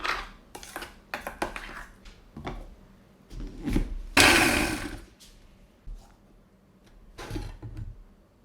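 A kadai is set down on a stove over a medium flame, with a series of scattered metallic clanks and knocks and one louder scraping clatter in the middle, heard close with no talking.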